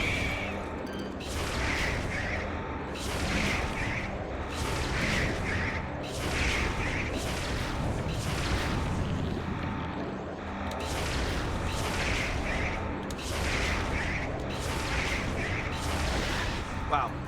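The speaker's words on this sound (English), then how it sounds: "Wow, that was more missiles than I expected that to require." Repeated missile blasts in a Metroid video game, a long run of booming, explosive shots in quick bursts with brief pauses between volleys, loud and close, with game sound effects throughout.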